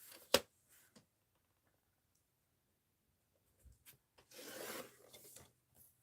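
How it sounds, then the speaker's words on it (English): Paper being trimmed for a mixed-media art journal: a sharp close snip at the start, then quiet, followed by a soft rasping cut or rub later on. "Oh, I trimmed some off there too."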